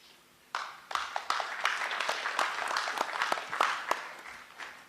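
An audience applauds at the Kenya-Poland Economic Dialogue in Nairobi. Clapping breaks out after a brief quiet moment and continues as a steady, moderately loud patter with a few sharper individual claps.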